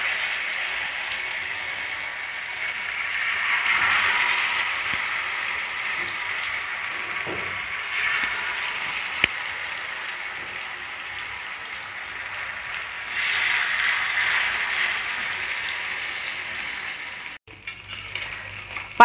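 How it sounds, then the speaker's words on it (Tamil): Fish frying in hot oil on a tawa gives a continuous soft sizzle that swells and fades over a long stretch, alone and fairly quiet, ending with a few light clatters. "இப்போ நம்ம மீனை ஃப்ரை பண்ணி எடுத்துக்கலாம்."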